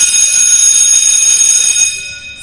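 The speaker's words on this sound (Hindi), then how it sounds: "स्कूल की घंटी बजी, छुट्टी की घंटी।" A school dismissal bell rings in one continuous, bright metallic peal for about two seconds, then cuts off and leaves a faint fading tail.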